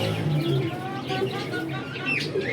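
Pigeons in a loft cooing softly in low repeated tones, mixed with faint chirps over steady background noise, close by.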